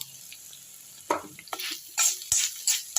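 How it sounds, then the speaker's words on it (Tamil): Asafoetida, ginger and grated coconut being roasted in a pan crackle and sizzle in short bursts as a spoon stirs them, with soft scraping between the hisses, close by and no talking. "எல்லாத்தையும் நல்லா வந்து வறுத்துடலாம்"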